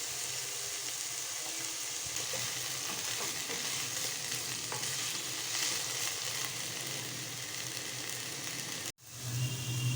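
Colorful vegetables lightly sautéed in a pan with a pinch of ground pepper give a steady, close sizzle with faint scraping of stirring throughout, briefly cut off near the end before the frying resumes.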